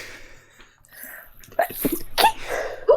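Three quick, high-pitched sneezes in a row, close and fairly loud, with a soft breathy intake before them.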